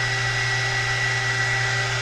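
A small $12 heat gun blows hot air in a steady, unbroken whir with a low motor hum, close and constant.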